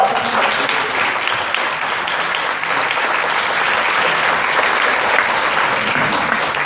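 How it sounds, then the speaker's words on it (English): A large crowd at an Oxnard College council candidates event claps in steady, dense applause that fills the whole stretch at full volume, with no speech over it. "give it also a large round of applause to our wonderful Associated Student Government"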